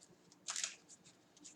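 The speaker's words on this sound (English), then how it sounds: "So I'll shuffle my cards up." Playing cards shuffled by hand at a tabletop during a Marvel Champions card game, a short riffling burst of about a quarter second, close and moderately quiet, with faint ticks of card handling before and after.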